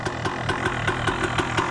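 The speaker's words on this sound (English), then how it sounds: "And she's idling great." A 1997 Honda CR125 two-stroke dirt bike idles after a cold start, a loud, close, steady engine with a rapid, even pulsing beat throughout.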